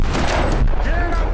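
Rapid gunfire from the video game Tomb Raider: Definitive Edition, a loud close burst of shots packed into a second or so, with a voice talking over it.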